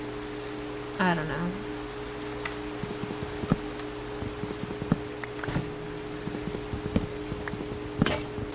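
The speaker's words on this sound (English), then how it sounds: "even though it's raining" Steady rainfall hisses throughout a Minecraft game world, a constant soft wash with scattered clicks and taps on top; a voice briefly mutters once over it.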